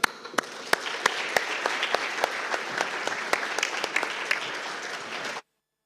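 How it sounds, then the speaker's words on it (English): At the close of a conference, an audience applauds in a steady wash of clapping, with a few sharper individual claps standing out, before it cuts off abruptly into silence. "we can stand and thank all the speakers and the audience, and applaud to the audience being with us all the time"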